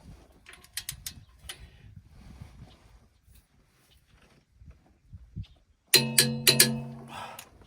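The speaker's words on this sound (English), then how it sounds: "I'm going to torque this guy next" A torque wrench tightens the oil pickup tube bolt on a Cummins X15 engine during a rebuild. A few sharp metallic clicks ring out close by near the end, after a long stretch of quiet shop shuffling.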